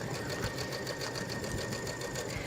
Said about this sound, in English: then run it through a serger